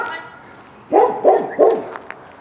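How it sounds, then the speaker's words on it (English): Dogs at a rural garage give three quick, moderately loud barks in a row, fairly close, after a quiet stretch of background. "Got dogs."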